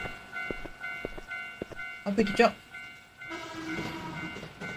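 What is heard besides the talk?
train passing near a station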